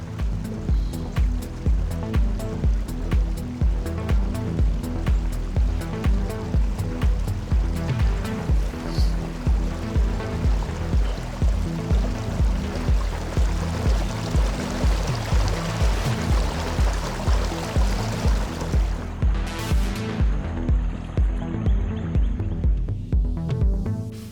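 River water rushing steadily along a hiking trail at Palmetto State Park in Gonzales, Texas, a dense continuous wash close by, with a rhythmic pulsing underneath and no speech throughout.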